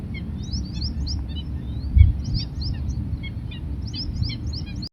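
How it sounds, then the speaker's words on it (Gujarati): Morning birdsong outdoors in India, with bright repeated chirps and short trills coming in clusters over a low background hum, one soft thump partway through, and no talk. "ખાલી તમે સવારના પક્ષીઓનો અવાજ સાંભળો।"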